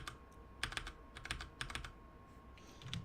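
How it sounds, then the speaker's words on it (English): Keys on a computer keyboard, Control and the arrow keys, are pressed in quick clustered bursts of clicks, fairly close and clear over a faint steady electronic hum, with no talking. "you can just move it with pressing, I think it was Control, yeah, Control and your arrow keys"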